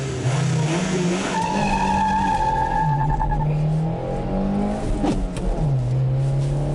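A car driven hard around a race track during a fast lap, engine revving up and down through the gears with tire squeal and skidding, loud and continuous with no talking.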